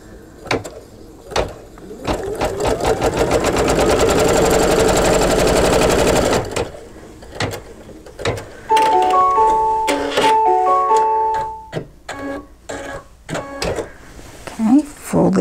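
An embroidery machine stitches the seam of an in-the-hoop mug rug, a dense, steady rapid needle rattle running for several seconds, then stopping; a voice talks briefly before and after alongside handling sounds and short beeps.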